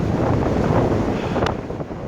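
Strong wind roars steadily around a hunting tree stand high in a tree in Oklahoma, with loud, constant buffeting against the microphone.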